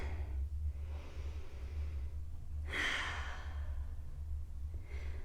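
Slow, deep breathing during the yoga child's pose: a soft exhale, a fuller audible breath a couple of seconds later and a fainter third, close and quiet over a low background hum.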